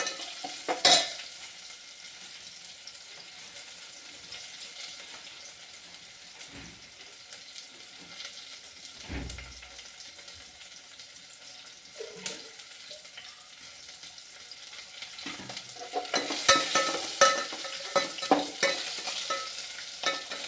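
Onions and curry leaves fry and are stirred in a pan for sambar, with a steady low sizzle, occasional scrapes of the spoon and a brief louder burst of stirring near the end, with no talk.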